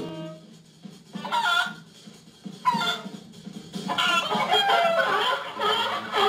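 Chickens cluck and squawk in short bursts, used as a comedic dub sound effect on a cartoon, with a rooster-like crow mixed in and brief gaps between the loud, close calls.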